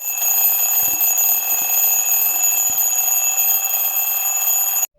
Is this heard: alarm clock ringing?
yes